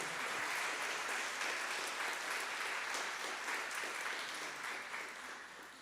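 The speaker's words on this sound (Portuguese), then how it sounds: "Aplauda o Senhor bem forte" A church congregation claps vigorously in a continuous burst of applause that holds strong and then begins to fade toward the end.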